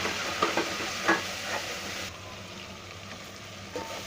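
Ground coriander, turmeric, chili powder and garam masala sizzle in hot oil for veg khichda, a steady frying hiss with a few soft stirring scrapes, close up, easing slightly quieter midway.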